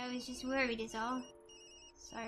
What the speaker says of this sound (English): Yumi, that's my phone.